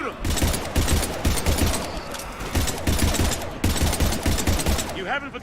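Dense, continuous automatic gunfire from the video game Mass Effect, loud and unbroken across the whole stretch, with shouting voices mixed into the battle.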